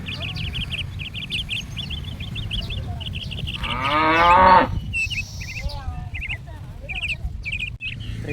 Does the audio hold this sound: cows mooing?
yes